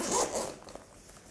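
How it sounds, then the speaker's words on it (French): A waterproof zipper on a camera accessory pouch slides open in one short, soft rasping pull, close and quiet, fading out after about half a second. "La fermeture éclair qui est étanche."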